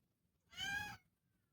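A cat howls at a door, one drawn-out yowl lasting about half a second, fairly close and clear against a quiet room.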